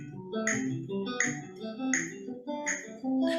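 An electric guitar runs through a CAGED shape exercise in sixteenth notes at about 80 BPM. Clearly picked notes fall in repeating rhythmic groups, close and alone with no talking.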